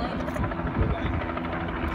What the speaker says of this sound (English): tell the helicopter go away